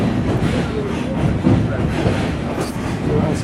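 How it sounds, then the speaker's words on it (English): Train on the White Pass & Yukon Route Railroad rumbling steadily past, a dense continuous rolling roar with faint clatter and occasional squeal, heard from aboard another train, with brief murmurs of talk. "There is another train coming up here to the right-hand side."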